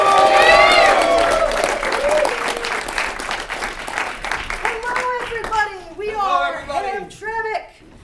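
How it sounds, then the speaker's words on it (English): An audience at a live improv comedy finals claps for team Hamtramck. Loud applause with some cheering starts the moment, then fades as cheerful voices take over near the end. "Big round of applause for Hamtramck."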